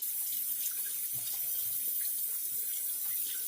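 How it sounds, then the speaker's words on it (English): Tap water runs steadily into a sink while hands are rinsed under it, a continuous close splashing wash with small irregular spatters and no voices. "I want to go ahead and rinse my hands off"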